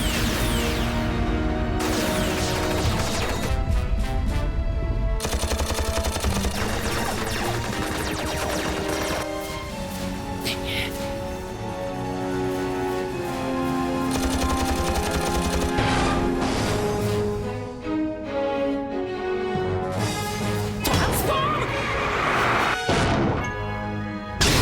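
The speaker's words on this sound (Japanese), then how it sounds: "砲撃。" Artillery bombardment in the Transformers Micron Legend anime, a dense barrage of loud crashing blasts and impacts over a dramatic music score, continuing densely throughout without pause.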